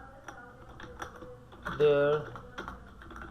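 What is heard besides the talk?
typing on a computer keyboard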